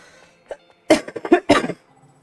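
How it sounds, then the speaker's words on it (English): A person with a lingering cough gives a few sharp, close coughs, one small hack followed by a quick cluster of harsher bursts, with quiet on either side. "I still got a cough"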